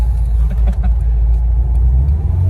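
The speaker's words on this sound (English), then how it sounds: "I wait to pull out with this stick car" A manual C5 Corvette with a swapped LS3 V8 and a heavy LS7 clutch pulls away, its deep engine rumble steady and close throughout.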